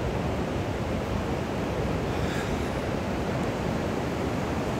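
Ocean waves wash steadily onto a black sand beach in Costa Rica, a continuous loud broadband roar of surf with no distinct breaks and a touch of wind, no voices.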